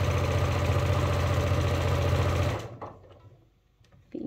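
A sewing machine stitches a sling bag seam with a half-inch allowance and backstitch, running loud and steady for over two seconds before stopping, followed by faint handling noises and a brief restart.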